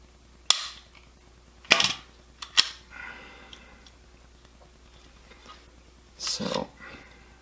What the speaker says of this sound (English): I did click the trigger there with my finger.